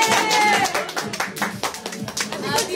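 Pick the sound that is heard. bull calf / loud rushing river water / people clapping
people clapping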